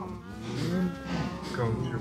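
Minecraft cow mooing in a farm pen, a drawn-out low moo that carries through most of the two seconds, loud and close, with another moo layered under it.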